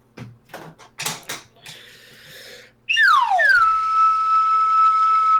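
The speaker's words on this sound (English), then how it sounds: "Even though it's a slide whistle, it never slides." A slide whistle that sharply swoops down at first, then holds one steady, loud, piercing note for several seconds, following a few short clunky mechanical knocks and taps.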